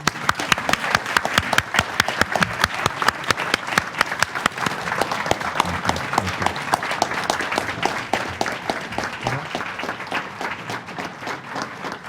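Sustained applause from an audience after a speaker is thanked, dense and steady clapping that fades slightly toward the end.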